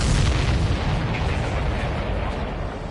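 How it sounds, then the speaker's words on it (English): A missile strikes a supply ship in a flight combat video game, giving a loud, rumbling explosion with crackling bursts that slowly tails off, with no voices over it. "Did you see that explosion?"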